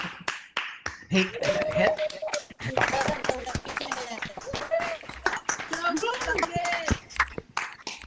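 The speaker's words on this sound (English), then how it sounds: "Everybody give a big round of applause to your success team" A small audience claps and cheers at a business event marking a company acquisition. Scattered, uneven claps run steadily under whooping and calling voices for several seconds.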